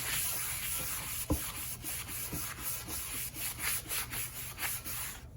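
Wet sanding on a scrap-parts guitar body: a steady soft abrasive rubbing with repeated back-and-forth strokes, close and moderately loud, with one sharp knock partway through and no talking.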